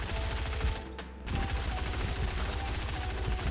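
Rapid SMG hip fire in Fortnite, dense automatic bursts rattling almost continuously with one brief pause, loud and close with no talk.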